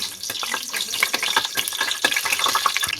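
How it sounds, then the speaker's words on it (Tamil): Cinnamon, stone flower, star anise, mace and cardamom sauté in hot oil for mutton biryani, giving a steady crackling sizzle with scattered sharp pops and light stirring clicks, close and fairly loud. "இதை லைட்டாக வதக்கி விட்டுக்கலாம்."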